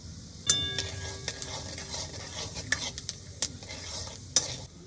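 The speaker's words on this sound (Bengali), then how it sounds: "তেলের মধ্যে আমি কালো জিরে জোয়ান আর জিরে ফোড়ন দিয়ে দিলাম" Black cumin, carom and cumin seeds crackle and sizzle in hot mustard oil, a steady close hiss broken by sharp pops and a few metallic clinks and scrapes of a stirring utensil.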